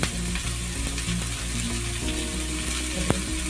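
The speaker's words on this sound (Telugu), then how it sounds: "ఒక 2 నిమిషాలు ఫ్రై చేస్తాం." Jowar (sorghum) grains fry in a pan with a steady, close sizzle and occasional stirring scrapes and clicks, including a sharp tap near the end.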